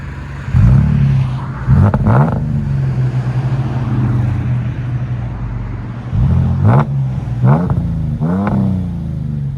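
A 2015 Mercedes E350 with a 3.5L V6, resonators and muffler delete drives past with loud, raspy exhaust, rising revs and several sharp throttle blips over a steady engine drone.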